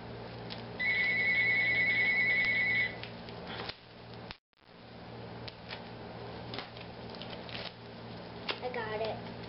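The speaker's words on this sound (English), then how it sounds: "You have to excuse our phone." A home telephone rings once, a warbling electronic trill lasting about two seconds, moderately loud over a quiet room with low background noise.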